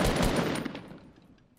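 Rapid automatic gunfire in Fortnite, a dense burst of close shots in the first half second that trails off into echoing decay over about a second and a half.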